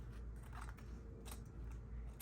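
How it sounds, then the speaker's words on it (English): Scissors snipping through paper cutouts for a mini collage, a few quiet close cuts with soft rustling and no talk. "so we can cut these guys off"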